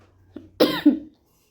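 A person who is feeling unwell gives a short cough, two quick hacking bursts close to the listener in a quiet outdoor setting at sunset.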